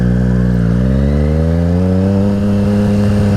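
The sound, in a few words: motorcycle accelerating to 20 miles an hour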